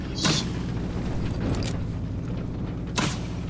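In the video game Jurassic World Evolution 2, a firework-like display effect gives two sharp booming bursts a few seconds apart over a steady dense background rumble.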